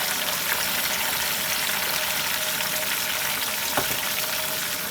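Garlic, ginger, onion and spices frying in a pan with meat for nalli nihari, a dense, steady sizzle close by with a faint stir or clink near the end.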